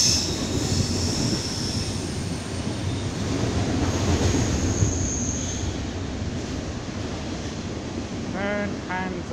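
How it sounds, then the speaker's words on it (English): BNSF freight container train heading south with a CSX locomotive in the consist, rumbling past as a steady broadband roar for the whole stretch, with a brief wheel squeal near the end. "Bnsf Freight train going south,"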